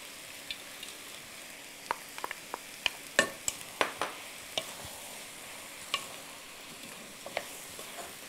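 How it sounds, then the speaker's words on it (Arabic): Peas stirred in a frying pan, with a soft continuous sizzle under a scattering of sharp spoon-against-pan clicks and scrapes at irregular intervals, close and fairly quiet. "هنا نقليو"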